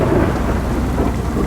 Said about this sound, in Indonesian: petir lagi-lagi menyambar